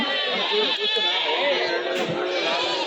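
Goats and kids bleat at a busy livestock market in Kadiri, a dense chorus of overlapping calls close by with steady crowd chatter underneath.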